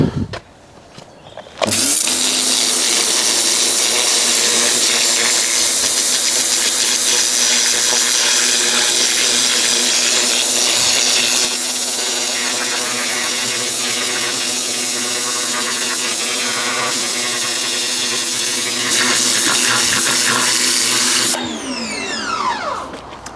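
A V-Tuf V3 pressure washer running at 150 bar with a turbo nozzle blasts weeds, a loud, continuous roaring hiss of water and motor that runs almost unbroken for about twenty seconds before cutting off.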